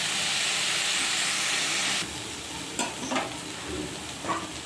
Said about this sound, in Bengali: একটু হালকা করে ভেজে নিয়ে আসছি